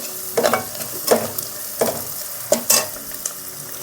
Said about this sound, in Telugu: ఒక 5 పచ్చిమిరపకాయలు తీసుకున్నాను, పెద్దవి సన్నగా కట్ చేసుకున్నాను. కొంచెం బాగా వేపాలి ఇది.